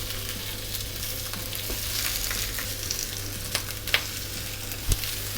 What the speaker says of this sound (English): We throw in rabbit into a hot saucepan, into a hot pan, sorry.